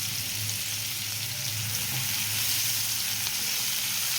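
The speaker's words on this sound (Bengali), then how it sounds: "এরপর এখানে দিয়ে দিচ্ছি কুচনো পেঁয়াজ।" Chopped onion hits hot oil in a pan already holding whole spices such as cinnamon and cardamom, giving a steady, close sizzle and hiss that continues evenly without any talking.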